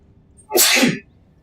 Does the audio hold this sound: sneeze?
yes